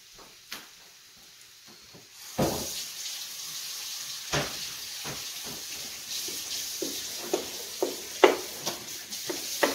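Ground beef browning in a pan for sweet potato hash, a steady hiss of sizzling with scattered sharp pops and crackles growing busier over time.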